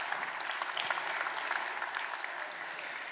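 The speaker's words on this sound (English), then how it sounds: "So again, applause." A conference audience applauds after a talk on PyScript: dense, even clapping from many hands, sustained at a steady level for the full few seconds with no voices on top.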